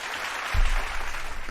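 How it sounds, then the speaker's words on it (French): Applause effect playing right after a cymbal hit, with a low thump near the start and a steady wash of clapping that continues to the end. "la cymbale, et des applaudissements"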